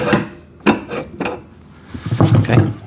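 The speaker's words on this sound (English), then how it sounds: "So I'll just slide that axle through." Metal axle slid through the frame of an Albott 75 ft by 3/8 inch auto-feed electric drain cleaner machine, giving a few close scraping, clanking knocks with quieter rubbing between them, no talk.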